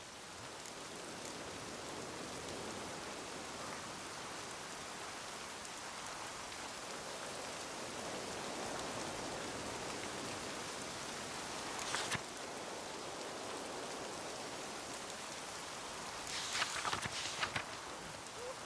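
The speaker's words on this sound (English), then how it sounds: "It's raining." Steady rain pours down in The Witcher 3, a continuous wash of falling water with a few brief louder spatters near the middle and end, heard alone without voices.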